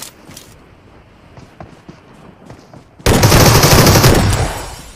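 Sustained SCAR rifle fire in a shooter video game, a loud continuous burst of gunfire erupting abruptly after quieter scattered shots, then tapering near the end.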